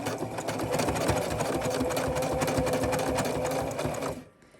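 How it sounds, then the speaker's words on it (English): A sewing machine runs a back stitch on a sewing-pattern project, giving a steady, loud mechanical whir with a rapid stitching rhythm that holds for about four seconds and then stops abruptly. "I am just gonna go ahead and hit it with a back stitch."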